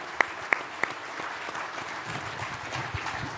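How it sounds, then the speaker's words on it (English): Audience at a military association panel event applauds a speaker, with a few sharp close claps at the start followed by a moderate, fairly faint spread of clapping through the room. "please give me a huge round of AUSA applause for this esteemed guy"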